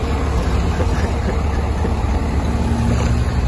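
Volvo FH truck engine idling, a steady low rumble that stays constant throughout, close and fairly loud with broadband noise and no clear voices over it.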